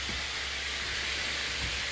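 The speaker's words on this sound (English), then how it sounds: "You hear them down in there sizzling, talking to each other." Oxtails brown in a hot pan, a constant loud broadband sizzle and hiss that stays steady throughout with no talking.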